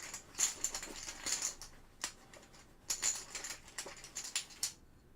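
Game cards for the board game Isofarian Guard being shuffled by hand, a run of quick crisp riffling bursts with short pauses between them, fairly close and moderately loud, with no talk.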